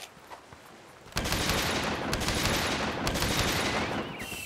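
Rapid automatic gunfire bursts out after a quiet second and continues as a dense, crackling fusillade, close and loud.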